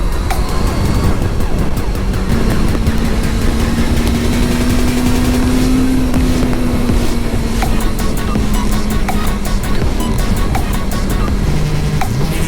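An Aprilia RS660 sport motorcycle rides through a tunnel, its engine roaring loud and close with steady wind rush and a sustained droning note that rises and then eases off.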